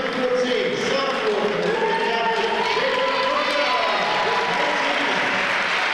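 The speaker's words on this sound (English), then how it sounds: "So the EC fans in attendance. Round of applause." Fans at a Lorain County boys' basketball all-star event applaud and cheer in a steady, crowded wash of clapping, with a commentator talking over it.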